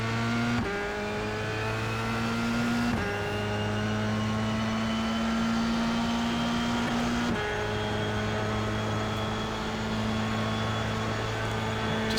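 A Formula 3 racing car in a video game held at full throttle on the Bathurst circuit, its engine a loud continuous high-pitched whine that climbs through the revs and dips briefly at each gear change.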